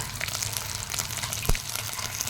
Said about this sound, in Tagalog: Lagyan na po natin ang tubig mga kalangga.